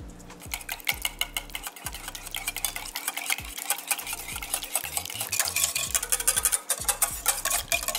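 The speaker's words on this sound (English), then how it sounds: "we'll whisk this until combined" Ricotta cheese, milk and vanilla extract whisked together in a bowl, a busy run of quick scraping, clinking strokes close up, steady and fairly loud throughout with no talking.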